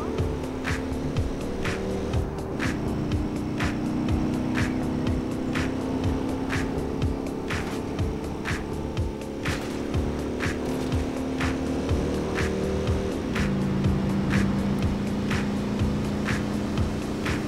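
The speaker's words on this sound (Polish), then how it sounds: "Przyjemnie się jedzie motorem." Motorcycle ride in Watch Dogs 2: a continuous loud engine drone with shifting pitch steps as the bike changes gear, accompanied by regular sharp ticks, and no voice.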